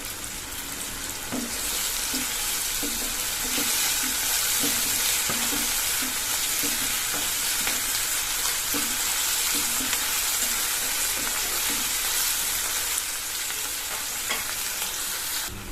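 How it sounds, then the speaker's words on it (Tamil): Ginger garlic paste and rock salt sautéing in a pan, a loud steady sizzle with rhythmic scraping strokes of stirring repeating throughout, close up and without talk. "அடுத்தது கல் உப்பு தேவையான அளவு சேர்த்து நல்லா வதக்கிக்கணும்."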